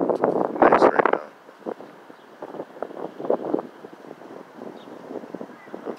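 Wind gusts buffet the microphone outdoors on a journey, with bursts of rumbling noise rising and falling over several seconds, loudest near the start, with no talk during the gusts.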